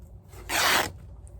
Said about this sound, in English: So let's just cut